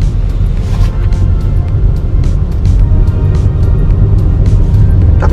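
A 2003 Toyota Camry 2.4 G rolls along a road, heard from inside the cabin as a steady, loud low rumble of engine and tyre noise with no break.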